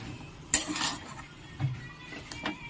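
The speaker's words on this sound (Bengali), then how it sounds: "এভাবে উল্টে পাল্টে মশলাটা পুরো আলুর সাথে আমি মাখিয়ে নেব" Potatoes being tossed with spices in a kadai, with a few distinct scraping and clanking strokes of a spoon against the metal pan, separated by quieter pauses.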